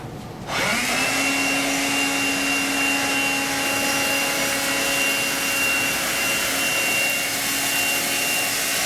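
A Eureka cordless stick vacuum runs steadily while picking up sand, its loud, close motor whine rising at the start and then holding a constant high-pitched drone throughout.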